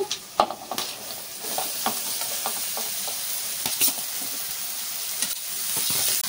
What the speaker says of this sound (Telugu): ఇప్పుడు మంట హైలో పెట్టుకొని కలుపుకోవాలి.